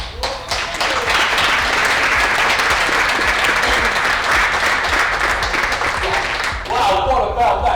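Audience at a talk on bitcoin as money breaks into a loud, sustained round of applause, dense clapping filling the room for several seconds before easing as a voice begins to speak near the end.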